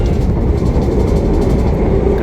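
The Argo Merbabu executive passenger train, running from Semarang Tawang to Gambir in Jakarta, heard from inside a carriage as a steady, loud low rumble of wheels and running gear with no talking.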